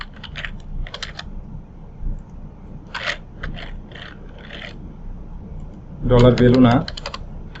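Keyboard typing while coding a Laravel Livewire e-commerce project, with bursts of clicky keystrokes in short runs and a dense flurry near the end, alongside occasional speech.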